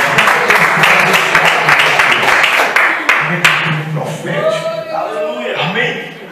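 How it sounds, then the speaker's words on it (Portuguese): A church congregation at a Thursday evangelical service in Belo Horizonte claps together, loud and dense, while voices speak and call out over the applause as it begins to thin. "dá uma salva de palmas para Deus"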